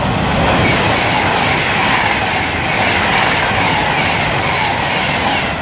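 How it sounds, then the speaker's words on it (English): An Avanti West Coast Class 390 Pendolino, unit 390155, approaches Lichfield Trent Valley on the West Coast Main Line from London Euston to Manchester Piccadilly, giving a loud, steady broadband rush that holds throughout with no voices. "now approaching with 390-155 for Avanti West Coast, working 1 Hotel 27 from London Euston to Manchester Piccadilly."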